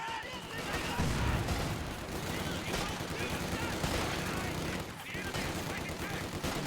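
Rapid gunfire and a rifle grenade crack through a Company of Heroes 2 infantry battle, a dense, steady wall of shots and blasts lasting the whole stretch with a commentator talking over it.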